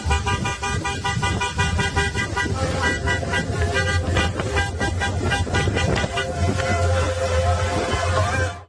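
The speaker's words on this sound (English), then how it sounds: "you can see them stopping their cars to block this bridge" Many cars in a protest convoy halt on a bridge to block it, horns honking loudly and continuously in overlapping, sustained blasts over a dense traffic rumble, with scattered voices mixed in.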